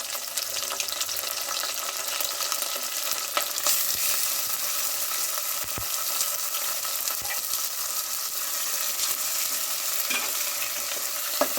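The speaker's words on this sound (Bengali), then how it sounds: "চিকেনগুলো আমি দিয়ে ভালো করে তেলের মধ্যে নেড়ে নিচ্ছি।" Washed chicken pieces are stirred in hot oil with browned onions for chicken korma, making a continuous close sizzle and frying crackle with occasional scrapes and clinks of the spoon against the pan, and no voices.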